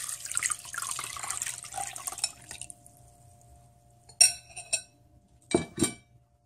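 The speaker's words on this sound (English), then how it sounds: "And pour the rest water." Water poured while making papaya padek sauce, a steady splashing stream for about two seconds, then quiet, followed by a few clinks and brief splashes of glass and liquid.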